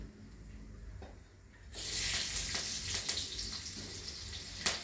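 Green chilies dropped into hot oil tempering with mustard seeds and turmeric burst into a loud, steady sizzle after a quieter start, the frying hiss filling the rest of the moment with a few sharp crackles.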